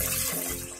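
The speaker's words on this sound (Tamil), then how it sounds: "தண்ணி ஊத்துறங்க" Water pours into a pressure cooker while drumstick (murungakkai) masala is cooked in a home kitchen, giving a short, steady splashing rush that runs close and unbroken for under a second.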